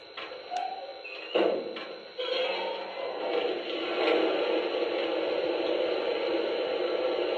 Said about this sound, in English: There's the sound of water being added.